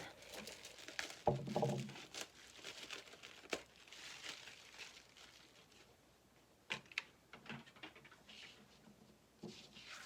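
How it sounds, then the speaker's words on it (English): Crinkling and tearing of plastic wrapping being removed from an art canvas in close, irregular bursts, with quiet pauses between the rustles. "First, let's unwrap the canvas."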